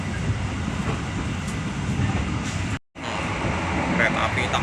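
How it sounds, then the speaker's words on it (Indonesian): A passenger train speeds along the tracks past rubber and oil palm plantations, its steady loud rumble and rail noise filling the scene from close by, with a brief dropout midway. "Kereta api tambah ngebut ya teman-teman ya."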